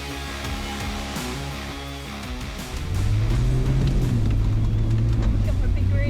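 A vehicle on all-terrain tires struggles off-road: a low engine labors, then surges louder about halfway through as the wheels spin, with a steady droning rise and fall and no speech.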